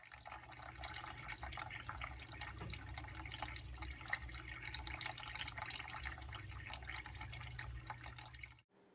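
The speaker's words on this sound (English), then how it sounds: "I plugged the pump in, added water, and voila, success!" Steady close splashing and trickling of water from a homemade fountain run by a pump, continuous and even throughout before cutting off at the end.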